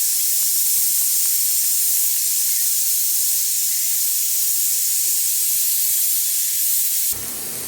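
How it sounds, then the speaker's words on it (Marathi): A pressure cooker cooking masala rice lets out a loud, continuous steam whistle for several seconds, then cuts off abruptly near the end. "कुकर बी आपली शिट्टी लागले बघा"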